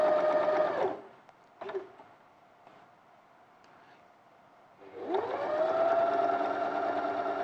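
A sewing machine stitching fabric runs in a steady, close whirring hum, stops for a few seconds of near quiet with a brief clunk, then starts up again and keeps running.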